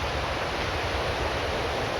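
A waterfall beside a nature trail produces a steady, dense rushing hiss that holds constant and fairly loud, with no breaks.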